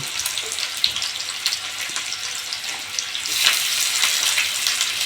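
Onions tipped into a hot pan of oil for a village-style crab jhal, giving a loud, steady sizzle and crackle that swells midway, close and continuous with no talking.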